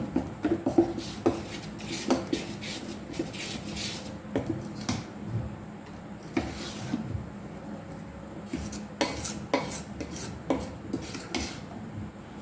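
A spoon stirs ragi millet dosa batter with salt in a metal bowl, giving steady scraping and clinking strokes against the sides of the bowl, close by and moderately loud, with no talking.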